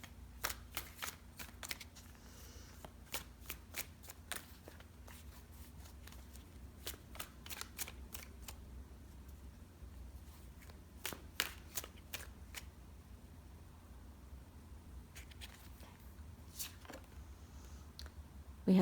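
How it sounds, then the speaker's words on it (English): Tarot cards shuffled and drawn during a reading, giving repeated sharp riffling snaps in quick bursts over a low steady background hum, close and clear with no talking. "let's get a few more cards out and just get a little more information here"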